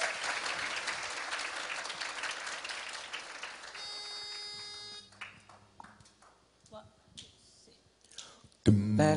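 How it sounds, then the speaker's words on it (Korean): Applause breaks out at a closing ceremony ahead of a jazz song, fairly faint clapping that fades within a few seconds, followed by tonal beeps and scattered clatter, with a loud burst at the very end. "박수 주세요"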